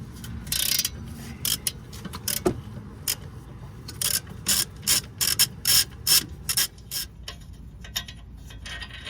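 Half-inch ratchet turning a 17 mm short socket on the hub bolts of a Lexus IS250 during a brake upgrade, giving bursts of quick, crisp clicking close by, with short pauses between runs and no talking.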